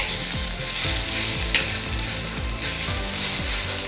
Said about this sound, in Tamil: ஸோ தேங்காயை தனியாக வறுத்துக்கோங்க